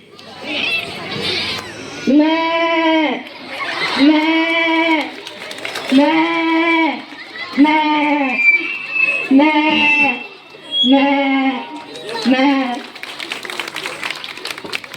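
At a Home Minister stage contest, a person imitates a goat's bleating with a series of about seven drawn-out, wavering bleats, loud and close, with crowd noise in the background.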